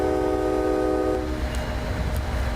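An MBTA train horn in a train simulator game blares loudly and steadily for about a second, then gives way to the rumbling rail and engine noise of the moving train.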